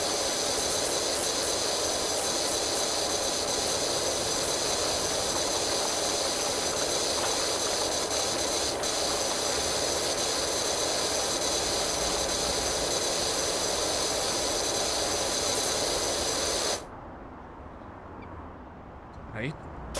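Pressure washer spraying a dirty wooden fence in PowerWash Simulator, a steady loud hissing jet running without a break for most of the clip, then cutting off abruptly near the end.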